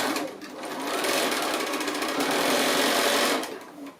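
A sewing machine runs steadily, stitching a quarter-inch seam on the casing of a small drawstring bag made from leftover 2½-inch quilt squares; one continuous close burst of about three seconds that starts and stops abruptly, with no talk.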